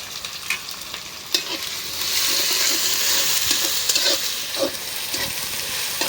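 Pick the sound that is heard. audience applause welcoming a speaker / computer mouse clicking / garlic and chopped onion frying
garlic and chopped onion frying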